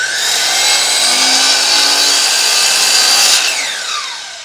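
A loud, steady power saw whine cuts continuously along a line through tall wooden baseboard, holding an even roar for about four seconds before easing off as the cut stops.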